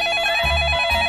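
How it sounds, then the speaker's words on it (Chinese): A telephone rings on a TV dating-show set, a short, loud electronic trill that repeats in quick pulses. "甜心的妈妈接电话"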